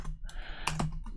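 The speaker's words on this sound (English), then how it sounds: "man, I'm typing bad tonight" Quick, close clicks of keys on a computer keyboard tap in an uneven burst while coding, with a low hum beneath.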